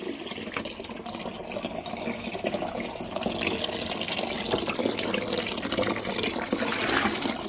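Tap water runs steadily into a container for watering a small home garden, a continuous close splashing hiss that grows slightly louder and fuller as the vessel fills.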